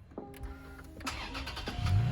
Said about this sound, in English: So turning on the car is pretty simple.